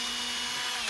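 Power drill boring a hole in a wall for a butterfly wall hook, a continuous high-pitched motor whine held steady and close throughout, with no voices.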